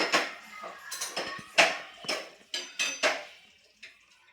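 Spoon scraping and clinking against a pan as ghol (purslane) leaves mixed with gram flour are stirred, a series of close, sharp metallic knocks in uneven rhythm with no talking.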